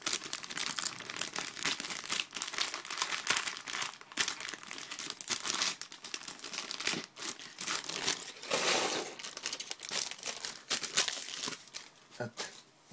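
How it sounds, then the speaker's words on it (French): A LEGO plastic polybag is opened slowly and carefully, giving continuous close crinkling and tearing of thin plastic throughout, with a few sharper rips and brief pauses in the rustling. "je prends juste un petit peu de temps pour ouvrir le sachet correctement"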